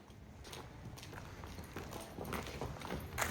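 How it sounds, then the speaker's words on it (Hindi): A Marwari mare's hooves clop on the ground at an uneven walking pace amid steady outdoor noise, with a few louder thuds near the end. "दुर्गा जी घुमाइए घोड़े को,"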